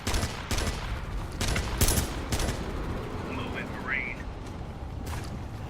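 SMG fire in the squad tactics game The Red Solstice rattles in several short, sharp bursts spaced a second or so apart, loud and close, with a brief high electronic chirp between volleys.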